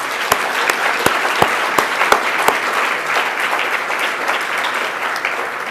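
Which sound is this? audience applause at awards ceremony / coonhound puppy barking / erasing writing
audience applause at awards ceremony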